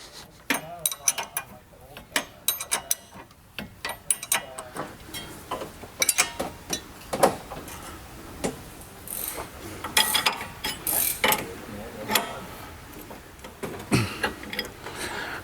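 Hand ratchet clicking in irregular bursts while tightening front suspension bolts on an S550 Mustang during a Steeda and AST overhaul, close and moderately loud, with brief pauses between strokes.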